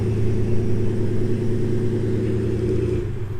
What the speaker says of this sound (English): Got a good rumble to it.